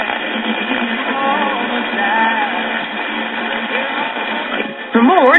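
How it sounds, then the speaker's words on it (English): A 1940s Sentinel AM tube radio pulls in distant DX stations, giving a steady band-limited hiss with faint wavering voices and heterodyne whistles that swell loudly near the end. "I'm already hearing some DX coming in"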